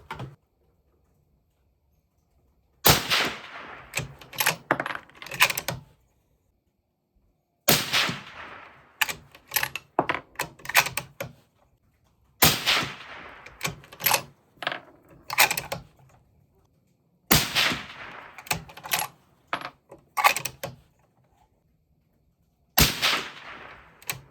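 A 25 Creedmoor rifle firing 135 Hybrid loads at a shooting range: five sharp, loud reports spaced several seconds apart, each followed by a short cluster of metallic clicks and clatter, with silence between.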